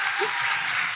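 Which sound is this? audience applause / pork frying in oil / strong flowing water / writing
audience applause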